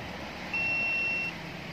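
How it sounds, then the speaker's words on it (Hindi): A driver drowsiness alarm gives a single steady electronic beep tone, sustaining for under a second over low background hum, fairly clear and close. "अलार्म बज पड़ेगा।"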